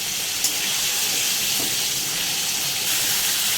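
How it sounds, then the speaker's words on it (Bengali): Spice masala sautéing in a pan for a Bengali fish-roe fritter curry gives off a steady, loud frying hiss that carries on unbroken throughout, close up, with no talk. "এবার এটাকে ভালো করে কষাতে হবে যাতে এর মধ্যে এই মশলাটাও ঢোকে"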